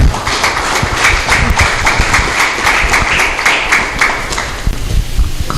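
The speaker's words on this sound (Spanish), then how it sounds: "solicitarle a ustedes un fuerte voto de aplausos para los invitados que tenemos aquí al frente" Audience applause for invited guests seated at the front of a district gathering, a loud, steady crowd clapping that runs the whole time with dense overlapping claps and no pause.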